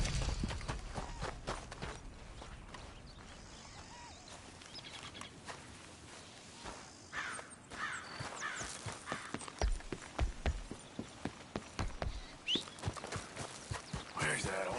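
Horse hooves clip-clop in a PS4 video game, a quiet irregular patter of steps that grows into quicker, sharper hits toward the end, with faint bird calls around them.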